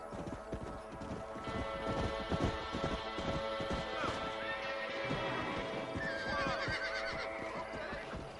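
Horse neighing and hooves clopping in the Red Dead Redemption video game, a wild stallion whinnying over steady clip-clop hoofbeats with scattered crashes, loud and continuous throughout.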